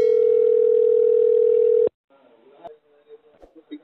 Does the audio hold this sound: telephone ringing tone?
yes